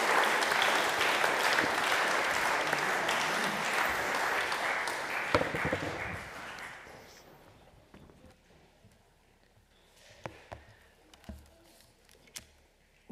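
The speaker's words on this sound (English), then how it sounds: "Why don't we give them a clap" A church congregation at a morning service applauds steadily for about six seconds, then the clapping fades out, leaving a quiet room with a few scattered knocks and shuffles.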